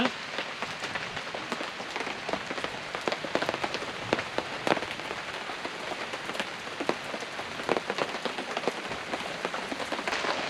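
Rain falls steadily on a campsite gazebo, a dense close patter with sharp individual drops tapping on the fabric throughout, loud and continuous with no talking.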